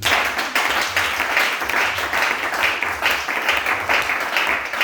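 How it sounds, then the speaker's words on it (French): A church congregation claps and cheers in praise, a dense, sustained wave of applause filling the room throughout. "On acclame le Seigneur."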